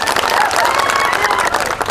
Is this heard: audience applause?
yes